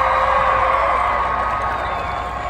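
Crowd in stadium stands at a 2019 final full marching band retreat, cheering and applauding in a steady, dense roar that fades slightly toward the end.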